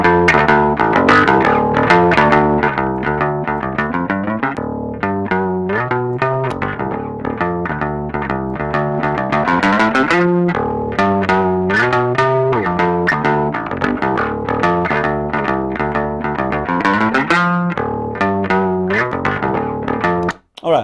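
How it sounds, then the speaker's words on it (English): A heavily distorted and compressed bass guitar through a virtual amp plays a continuous riff of picked notes, loud, buzzy and thin, with no talking. "now I have a very distorted and compressed and thin sound"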